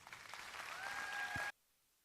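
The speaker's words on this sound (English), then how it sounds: "give them another big round of applause" Audience applause at the 2021 Tippecanoe County 4-H Fair dairy show: a dense, steady round of clapping for about a second and a half that cuts off abruptly into silence.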